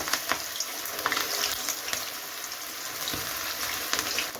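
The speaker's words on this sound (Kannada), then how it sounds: "ಇವಾಗ ಎಣ್ಣೆನ ಕಾಯಕ್ಕಿಟ್ಟಿದ್ದೆ, ಬೆಂಡೆಕಾಯಿನ ಫ್ರೈ ಮಾಡ್ಕೊಳ್ಳೋಣ" Okra pieces deep frying in hot oil make a loud, continuous crackling sizzle up close, with small popping bursts scattered through and no talking.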